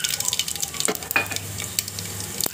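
Mustard seeds, fenugreek, urad dal and chana dal frying in hot oil with dried red chillies for a sambar tempering, a close, crackling sizzle with a few sharp pops and a spoon stirring in the pan.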